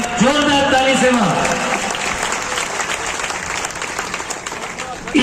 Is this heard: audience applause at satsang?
yes